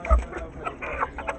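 Chickens clucking close by in short soft bursts, a few quick clucks spread across a brief moment with no talk.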